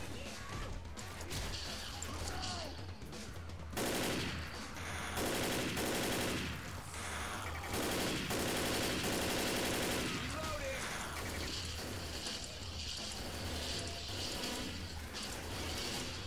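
Dense machine-gun and rifle fire in Left 4 Dead 2 keeps up almost without a break for sixteen seconds, loud and close, with bursts of rapid shots and heavy impacts, under occasional talk.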